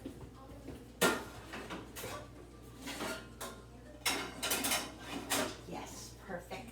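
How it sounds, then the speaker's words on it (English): A metal pan clanks and scrapes as it is fitted into a toaster oven in a home kitchen, with several sharp knocks and rattles spread across the moment, fairly quiet overall. "I just have to make sure that my pan will fit in the toaster oven"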